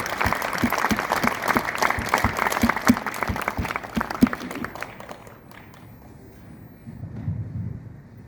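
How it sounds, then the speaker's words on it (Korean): Loud applause from a church congregation fills the room, then thins out and fades, leaving low murmuring afterward. "우리 큰 박수로 목사님 모시겠습니다."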